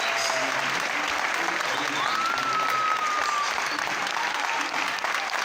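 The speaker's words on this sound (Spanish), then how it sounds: "Todo el teatro a oscuras y la gente aplaudiendo." A theatre audience applauds in the dark at the end of a concert, dense sustained clapping from a large crowd with a brief high whistle-like tone partway through.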